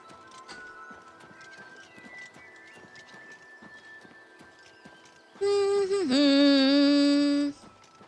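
Steady clip-clop of horse hooves trotting at an even rhythm in the video game Oblivion Remastered, then a loud horse whinny rings out near the end over faint game music.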